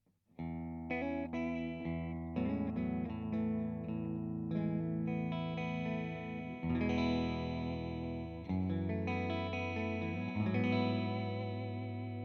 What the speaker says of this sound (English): The middle position is actually both humbuckers split,